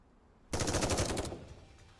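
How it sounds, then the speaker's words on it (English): Sudden loud burst of rapid automatic gunfire in the video game Nikke, about a second of dense repeated shots, then trailing off into quieter rumble. "Gunfire! Let's go check it out!"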